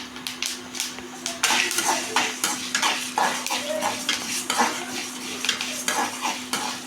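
Horse gram and dried red chillies dry-roasting in a pan for chutney, with a steady run of scraping, clattering spatula strokes against the metal and a faint dry crackle underneath, close and fairly loud throughout.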